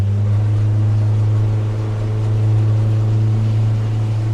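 A 75 hp Yamaha outboard on a 2005 Rogue 20 ft boat drones steadily and loudly close by, a low constant hum that holds without a break.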